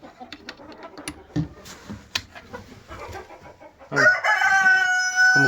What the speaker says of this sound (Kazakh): Міне бізде тауықтар жұмыртқа туып жатыр.